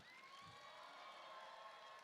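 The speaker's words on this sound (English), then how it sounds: "Can we give a massive round of applause to them for their encouragement" An audience at a cosplay competition at Animaga Expo 2025 cheers and applauds, a faint, distant, continuous crowd roar with whoops and no clear individual claps.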